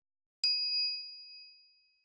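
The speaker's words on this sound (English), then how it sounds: "the microwave chimes" A microwave's single bright chime in the visual novel game Steins;Gate, one clean ding that rings out and slowly fades over about a second and a half.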